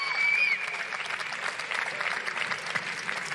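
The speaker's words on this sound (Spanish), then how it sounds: "escuchamos al equipo japonés ahí aplaudiendo en las gradas" Japanese karate team applauding from the stands at a karate match venue, a steady wash of moderately loud clapping throughout, with a faint whistle-like tone near the start.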